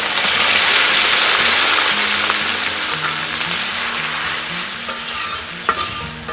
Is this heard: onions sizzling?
yes